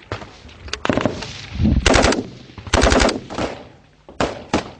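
Machine gun fire in combat against the Taliban, rapid bursts of sharp shots repeating in several loud volleys with short gaps, close by, alongside heavier booms and no talk.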